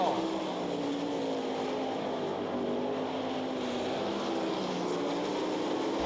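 410 sprint cars race on the Knoxville Raceway dirt track during the Masters Classic, producing a steady, unbroken engine roar that holds at an even loudness for the whole stretch.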